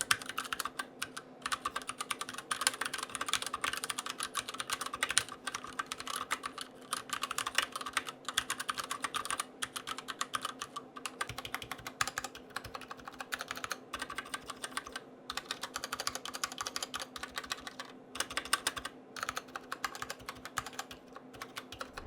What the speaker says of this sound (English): I'm gonna let you guys listen to this board in its stock form right now